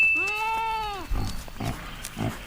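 A potbelly pig on a farm gives a drawn-out, wavering squeal up close, then several short, rough grunts follow in a loose rhythm.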